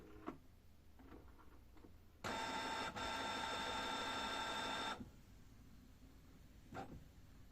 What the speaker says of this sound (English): Power on the printer.